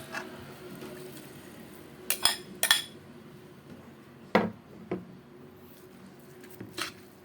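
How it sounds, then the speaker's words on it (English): Ground pork being mixed with ground ingredients in a bowl: a few isolated clinks and scrapes of a utensil against the bowl, with quiet gaps between them. "Again, mix the ground pork with our grinded ingredients."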